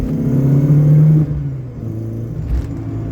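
A Peugeot 205 CTI convertible with a swapped 1.6 engine pulls hard under acceleration, a loud steady engine drone with a rising tone that eases after about a second, then continues as a lower rumble.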